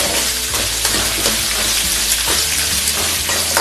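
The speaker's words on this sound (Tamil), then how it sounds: "அதில் வெங்காயம் வெங்காயம் போட்டுட்டு நல்லா மிக்ஸ் பண்ணிக்கலாம்" Onion frying in a pan for a green tomato chutney, a loud, steady, close sizzle with light scraping stirs running through it.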